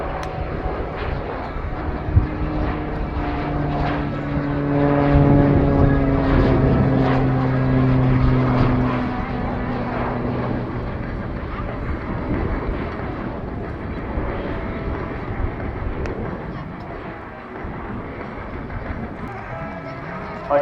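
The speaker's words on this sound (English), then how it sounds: "you will have the chance to admire the Tango 6 aircraft flying in a low altitude and a relatively slow airspeed" A Tango 6 propeller aircraft passes low and slow at an air show, its steady droning engine swelling to a peak and then easing off, with a faint announcer's voice and crowd noise underneath.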